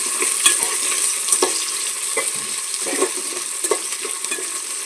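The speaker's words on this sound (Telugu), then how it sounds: "ఉల్లిపాయలు వేస్తాం కదా, మనం బాగా బ్రౌన్ కలర్ వచ్చేలాగా వేగాలి" Onions frying in a pan for coconut rice give a loud, close, continuous sizzle, with scattered scrapes and clinks as they are moved around.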